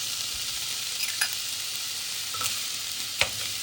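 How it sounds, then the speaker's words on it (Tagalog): Thai pineapple fried rice, seasoned with curry powder, dark soy sauce and fish sauce, is stirred in a pan: a bright steady sizzle with several scraping, clinking strokes of the spatula. "Tapos, i-continue lang ang paghalo."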